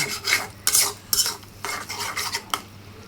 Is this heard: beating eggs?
yes